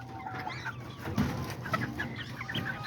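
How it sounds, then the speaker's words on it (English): A small rooster and hens cluck in backyard cages, producing soft overlapping clucks at close range over a low steady background hum. "this is one of his other little roosters."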